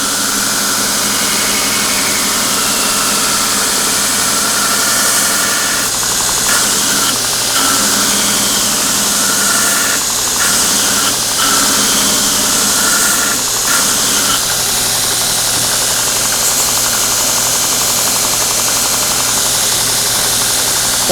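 Belt grinder running steadily on metal during surface grinding, a loud continuous abrasive whir with constant motor drone and slight fluctuations in intensity, no talking.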